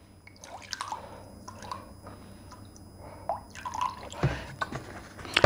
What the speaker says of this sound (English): And then 1/3 a cup